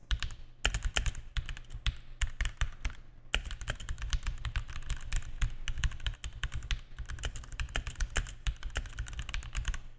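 Rapid, continuous clacking of keys on a COUGAR Puri Mini RGB mechanical gaming keyboard, close and crisp, with a brief pause early on before steady typing resumes.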